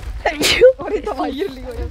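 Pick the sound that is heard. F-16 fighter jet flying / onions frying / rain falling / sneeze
sneeze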